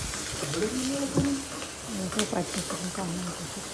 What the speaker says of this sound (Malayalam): പതിനഞ്ച് കൊച്ചുള്ളി ചെറുത നീളത്തിൽ കട്ട് ചെയ്തതും ചേർത്തൊന്ന് വഴറ്റി കൊടുക്കുക